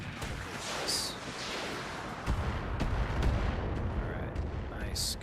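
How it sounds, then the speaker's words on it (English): Missile launches and impacts from a mech in the Roguetech video game, a run of sharp bursts and booms over a steady rumbling battle bed, with a voice talking underneath. "he decided to stay over there and launch some missiles"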